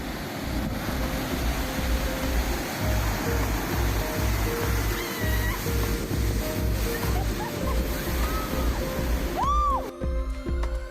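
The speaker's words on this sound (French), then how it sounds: "les vagues se fracassent contre les rochers et ça fait des espèces d'énormes vagues" Heavy waves crash against rocks at Pointe de Sel on Réunion, a loud continuous roar of surf and spray with rhythmic surges throughout, wind buffeting the microphone.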